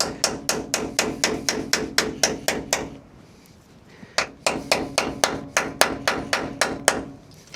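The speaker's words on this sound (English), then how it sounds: "fortunately I have a chisel and a hammer, so we can do a little chisel technology over here" A hammer strikes a chisel to drive out a frame rivet on a 1980 Dodge Power Wagon, giving sharp metallic blows in a steady fast rhythm, then a brief pause, then another quick run of loud close strikes.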